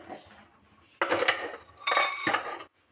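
Metal clatter as a lid goes onto a pan of fried radish in a home kitchen, two short bursts of clanking pots and cutlery, close and fairly loud, with quiet gaps between.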